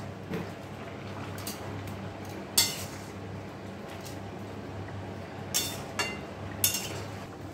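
Poppy seed paste is stirred into a potato, pumpkin and stem curry in a kadai, with sparse metallic clinks and scrapes of a spoon against the pan over a quiet background.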